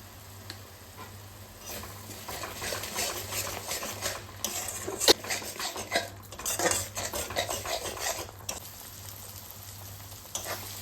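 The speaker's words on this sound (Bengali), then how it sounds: "মশলাটা খুব ভালোভাবে ভাজা হয়ে গেছে তেল তেল বেরিয়ে এসেছে ওপর দিয়ে" A spoon scrapes and stirs ground turmeric and coriander frying in oil in a pan over a soft steady sizzle, with irregular clinks and scrapes, close up.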